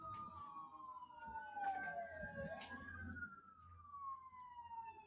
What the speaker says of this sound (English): You guys hear the cops and like the sirens?